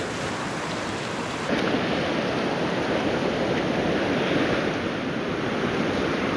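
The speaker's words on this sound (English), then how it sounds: "the water's rushing past the indicator" River water in high spring runoff rushes steadily past a rock edge, a loud, continuous broadband wash that swells slightly after the first second and holds without pause.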